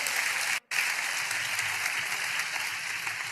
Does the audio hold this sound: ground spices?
no